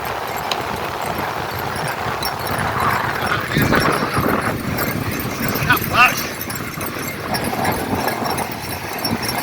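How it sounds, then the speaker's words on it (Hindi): Horse hooves clip-clop steadily during a horse ride at a seaside beach, a continuous rhythmic patter under loud chatter and shouting from riders and friends nearby. "घोड़े की सवारी"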